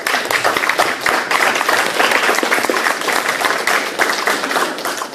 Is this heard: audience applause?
yes